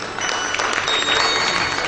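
Audience applause rolls on as a loud, dense, continuous wash of clapping from a crowd, sustained evenly throughout.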